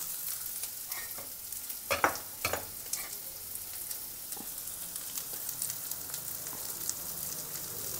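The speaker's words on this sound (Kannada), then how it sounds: "ಇದು ಕೂಡ ಲೈಟಾಗಿ ಫ್ರೈ ಮಾಡ್ಕೊಬೇಕು." Sliced onion frying in a pan for Mangalore-style chicken sukka, giving a faint, steady sizzle with a few sharper scrapes and clicks from stirring near the start and no talking.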